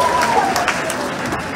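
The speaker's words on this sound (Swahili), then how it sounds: "Wapi makofi mazuri wanafunzi wa Shimbo Secondary" An audience at a school gathering applauds students from Shimbo Secondary with a brief burst of dense clapping, close and fairly loud, mixed with some crowd murmur.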